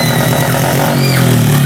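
A motorcycle with a weak regulator-rectifier, running without a battery, is revved and pops and sputters in a rough, uneven burble that stays loud and steady for under two seconds.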